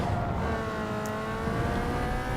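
Mazda Miata engine in the PC racing game Need for Speed Underground 2, a steady, close engine drone with a held rev and no spoken voices.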